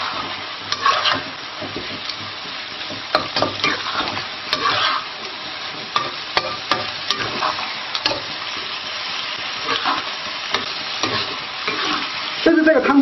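Rabbit pieces stir-fried in a wok with salt, Sichuan pepper and rock sugar for Zigong cold-eaten rabbit: loud, continuous frying crackle with repeated scraping strokes of the spatula throughout.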